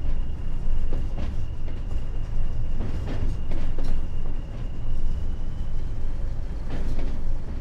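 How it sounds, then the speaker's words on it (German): A train rumbling past in Train Sim World 3, a steady, loud rolling roar with scattered wheel clicks and clatter that holds for several seconds with no voices. "der nächste Zug, der hier wieder raus will"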